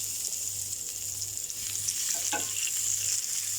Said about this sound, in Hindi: अब इसी तावे में हम ये थोड़ा सैलेड इसमें फ्राई कर लेंगे